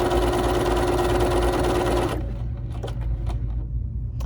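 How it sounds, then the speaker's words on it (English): A BERNINA 3 Series sewing machine runs a decorative stitch, a loud steady mechanical whir with a constant hum for about two seconds before stopping, followed by faint handling clicks. "now I'm going to stitch this stitch again."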